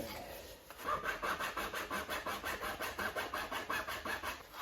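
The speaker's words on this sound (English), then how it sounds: "using a hacksaw on this kind of plastic tube" Hacksaw cutting through plastic tube in a kitchen, quick regular back-and-forth rasping strokes, about a dozen in steady rhythm, close by and alone.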